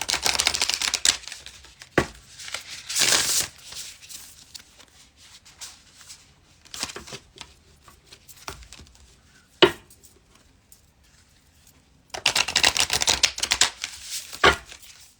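Repeated rapid riffling bursts of cards being shuffled, with soft taps and shuffling noises in between, close by.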